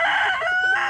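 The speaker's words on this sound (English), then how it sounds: "he'll get just out of arm's reach and he'll crow" A backyard rooster crows once at close range, a loud, strained cock-a-doodle-doo that fills the moment with no talk over it.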